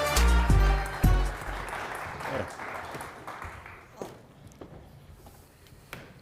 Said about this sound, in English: Please welcome them and give them all a round of applause